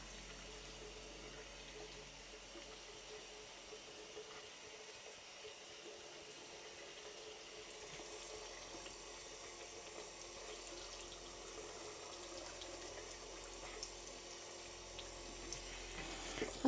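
A bathroom tap runs in a steady, soft stream during a night-time skincare routine, a faint, even wash of water with no voices.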